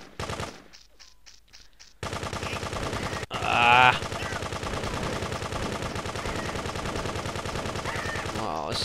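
Rapid automatic gunfire from the video game Grand Theft Auto 2 rattles in sustained bursts, with a brief quieter gap near the start and a sharp spike partway through, loud and continuous.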